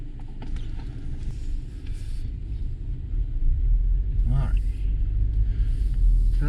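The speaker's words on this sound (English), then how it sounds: "Test drive in the Alfa Romeo Stelvio." An Alfa Romeo Stelvio with 125K miles on a road test drive gives off a steady low engine and road rumble that swells louder partway through, with brief higher mechanical noises over it.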